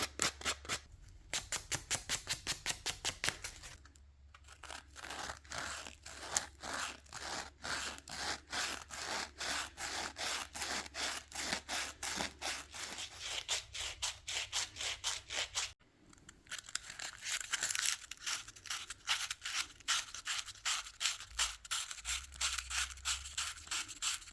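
A scrap wood ring being hand sanded with 600 grit sandpaper, steady rapid back-and-forth rasping strokes close up, with two short pauses partway through and no voices.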